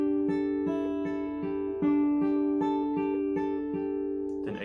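Fingerpicked acoustic guitar repeats a steady arpeggio of roughly a dozen evenly spaced plucks that ring into one another, close and bright, ending with a short scrape.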